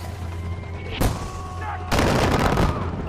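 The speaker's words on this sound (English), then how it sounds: "I just love the sound of that mortar going off." Mortar fire in Far Cry: a sharp close report followed about a second later by a louder, sustained boom that rolls on, with light voices in the background.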